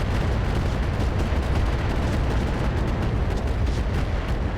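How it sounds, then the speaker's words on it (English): An LBX ammunition store explodes inside a mech in the RogueTech battle game, producing a dense, roaring blast of crackling, rumbling noise. It stays loud and sustained throughout, with no voices over it. "there's an LBX ammo explosion"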